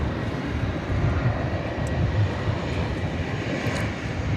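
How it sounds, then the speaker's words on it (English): A Cargolux cargo jet in its standard, non-retro livery departs DFW bound for Chicago O'Hare, a steady distant engine roar holding at moderate loudness without any voices. "And that would be the other Cargolux, the non-retro livery Cargolux"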